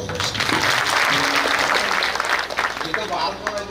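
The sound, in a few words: applause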